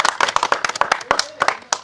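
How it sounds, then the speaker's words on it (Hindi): Hands clap in a quick, uneven burst at a village panchayat election gathering, about fifteen sharp close claps over a couple of seconds, with a faint voice in the background. "तालियां तालियां तालियां तालियां तालियां"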